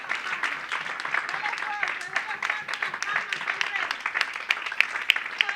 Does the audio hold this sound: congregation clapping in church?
yes